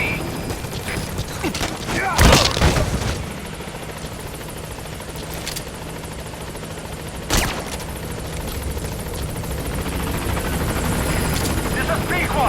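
Helicopter in Metal Gear Solid 5: The Phantom Pain arriving at a landing zone, a steady rotor drone throughout with a couple of sharp bangs like gunfire or impacts cutting through, under game radio chatter.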